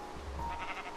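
A sheep in the Minecraft video game lets out a single short bleat, fairly clear against quiet background with soft rain-like hiss.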